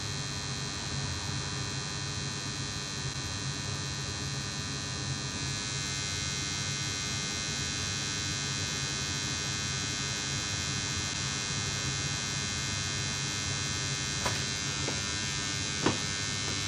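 An electric meter, overloaded through a variac cranked to full range, gives a steady, loud electrical hum and buzz that holds unchanged throughout, with a couple of faint clicks near the end.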